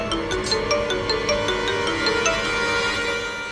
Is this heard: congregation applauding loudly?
no